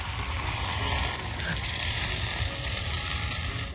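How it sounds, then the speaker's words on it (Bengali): Cornflour mixed in water hits a hot pan of chili chicken, setting off a loud, steady sizzle and hiss that fills the whole stretch without any talking. "ওই জলের মধ্যে আমি কর্নফ্লাওয়ারটা গুলে নিয়েছি, এবার দিয়ে দেবো জলটা।"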